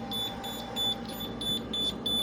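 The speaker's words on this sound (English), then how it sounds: "this is what it would constantly beep at you whenever it's out of paper or the cover is off" A braille embosser with its cover removed sounds a warning: a thin, high electronic beep repeating in a steady pulse, about seven short tones in quick succession, close and clear over a faint background hum.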